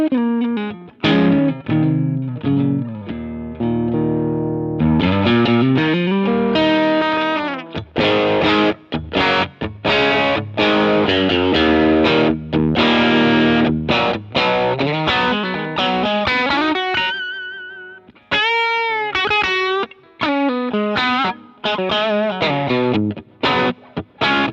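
Electric guitar played through a boutique UK overdrive pedal blending a Tube Screamer-style front end, Boss SD-1-style clipping and a clean signal, with loud, sustained, crunchy chords and single-note phrases and a short pause midway.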